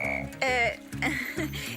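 Nasikabatrachus sahyadrensis (purple frog) croaking, a series of close, fairly loud calls with a drawn-out rasping croak near the middle and shorter pulsed notes around it, over a low steady hum.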